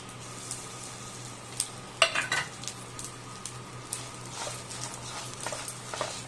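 Lemon rice seasoning with red chillies frying in a pan, a low steady sizzle with a clattering burst of stirring near the middle and lighter scrapes after.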